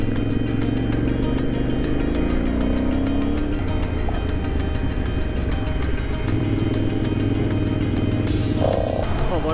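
A carbureted 950 motorcycle labours at over 2000 metres altitude on a Moroccan mountain road, its engine droning steadily with shifting pitch and a constant rumble close by, with no voices over it.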